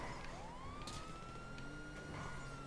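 Police car siren wailing in a GTA video game, a rising and falling electronic tone held steadily throughout over a dense, constant game soundscape with traffic noise.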